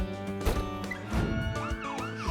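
Siren of an emergency blood supply vehicle, a Korean blood transport van that drives with the same priority as fire engines and ambulances, wailing steadily with rising and falling sweeps throughout, fairly close.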